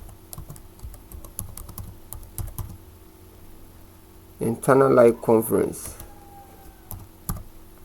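Scattered keystrokes on a computer keyboard click close by while text is entered for a CorelDRAW flyer design. Someone speaks briefly partway through, and the typing continues around his words.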